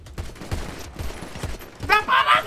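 Gunfire in a GTA roleplay game sounds as a quick burst of several sharp shots in a row, followed by a bright, ringing tail, with no talk over it.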